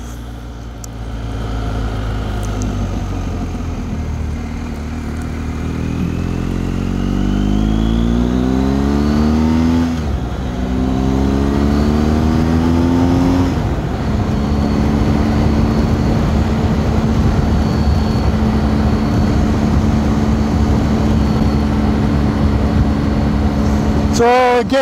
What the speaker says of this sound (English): there is a heck of a lot of wind noise.